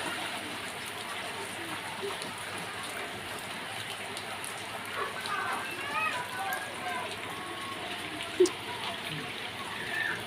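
Steady rain falling outdoors while children bathe in the downpour, a constant soft hiss with a sharp tap near the end, and voices talking over the patter.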